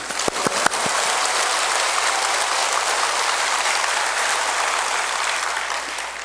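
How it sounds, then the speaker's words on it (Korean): An audience at a Catholic Cenacle retreat lecture breaks into applause, opening with a few sharp individual claps before swelling into a full, steady round of clapping that continues evenly to the end. "이때 박수 한번 칩시다."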